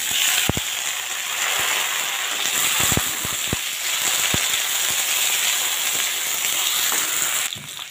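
Taro stolons (kochur loti) sizzle and fry steadily in a hot pan with shrimp, a continuous close hiss broken by sharp stirring clicks and knocks against the pan.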